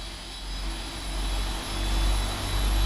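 Jet engines of a PMDG Boeing 747 UPS freighter running in the P3D flight simulator during engine start, a steady close roar with deep low rumble and a constant high whine, swelling slightly, with no voices.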